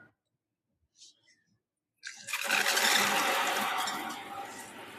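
Water suddenly gushes from the tap of an instant electric water heater, a loud steady rushing flow after a quiet start, with a brief voice beforehand.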